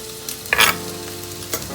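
Carrots stir-fry in a hot pan for a spicy chicken and shrimp chow mein. A steady sizzle runs underneath a few sharp scraping stirs, close by, with no voices.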